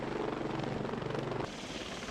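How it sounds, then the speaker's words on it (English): Steady, loud rotor and engine roar of a military Osprey tiltrotor landing nearby at a base in Saga, Japan, with a heavy thudding low end that shifts tone partway through. "The Ospreys landed like a helicopter."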